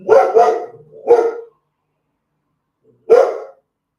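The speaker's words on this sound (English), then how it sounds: "pause for barking" A dog barks close and loud indoors, three quick barks in a burst followed by a pause and one more single bark, with silence between.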